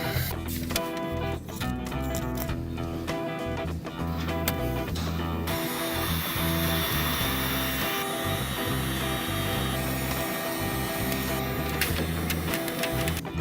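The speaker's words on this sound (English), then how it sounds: "we're going to have to hit these at the heat gun to make sure they bond" A heat gun blows steadily on window flashing corner patches outdoors in cold weather during a window installation, a continuous loud whirring drone with a faint ticking texture, no talking over it.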